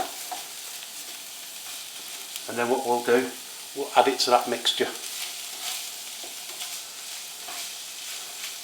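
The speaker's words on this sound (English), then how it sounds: "Now we need to get this all browned off so there's no pink left." Beef mince browning in a pan for chilli con carne gives a steady, low sizzle with soft scraping from stirring throughout, while a person speaks briefly partway through.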